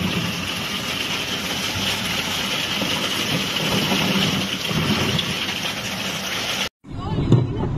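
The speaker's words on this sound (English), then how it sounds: "Hail is a phenomenon characterized by the fall of ice particles formed in clouds due to strong updrafts" Heavy rain pours steadily during a hailstorm with thunder over the Segrià and Pla regions of Spain, a dense continuous roar that cuts out abruptly near the end before a brief rumble.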